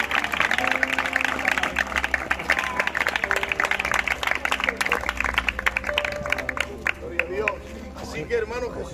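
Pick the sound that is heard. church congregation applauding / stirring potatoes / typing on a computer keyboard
church congregation applauding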